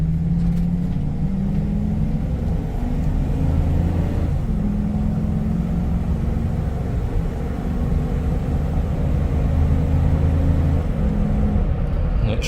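A 2004 Ford F-250 Super Duty Harley-Davidson Edition truck pulls away hard as if merging onto a highway, its engine droning loudly and rising in pitch through several smooth gear shifts, heard from inside the cab without talk.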